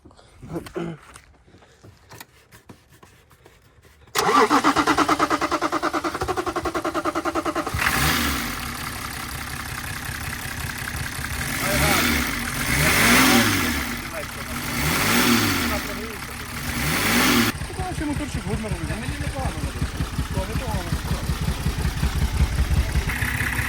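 A Chevrolet Lacetti car engine cranks and catches, then idles loudly and rises through several revs and drops back, close by, with a few background voices at the start.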